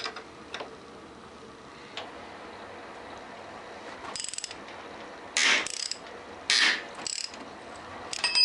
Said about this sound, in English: You're going to need a 5/8 ratchet and a 5/8 wrench.